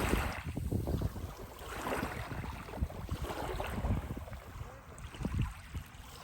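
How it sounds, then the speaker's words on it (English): Ocean waves wash in at a beach near a ferry landing, a rolling surge mixed with gusts of wind buffeting the microphone, with no one talking. "The sound of the waves is incredible."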